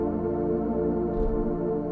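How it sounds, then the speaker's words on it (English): Analog Smooth synth pad, a stock Logic Pro sound, holding a warm, soft sustained chord with low, steady tone, smooth and even throughout with no voices. "So we're gonna find a nice pad sound. I already found Analog Smooth."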